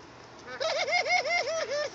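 A white and brown pet dove coos close by, a loud rolling series of soft pulsing notes.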